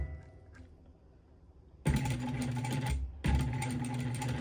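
A home sewing machine runs in two bursts of steady stitching, the second after a brief pause, following a quiet stretch of handling; the needle has just been changed.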